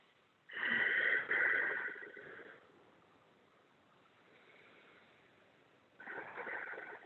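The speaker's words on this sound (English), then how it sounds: "3 deep breaths." Slow deep breaths during a yoga forward fold, the head hanging: a long, loud breathy exhale that fades away, a quiet pause, then another strong breath begins, close and breathy.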